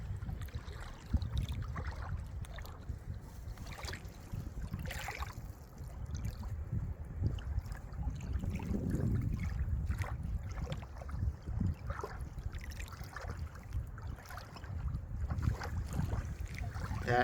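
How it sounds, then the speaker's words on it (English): Lake water lapping against the shore at an old recreation area, a low continuous wash of gentle waves mixed with wind rumble on the microphone, steady and unbroken with no voices. "Here's a few seconds of some water lapping up against the"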